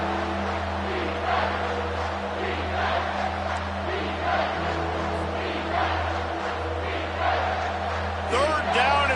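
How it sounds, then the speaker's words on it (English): A college football stadium crowd roars on a third-down play, a loud, sustained wall of cheering and yelling that swells in waves. A commentator talks over the roar. "this crowd will blow out a vocal cord to help this defense"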